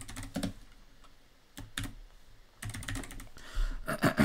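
Typing on an American computer keyboard comes in bursts of rapid, close key clicks separated by brief pauses, with no talk.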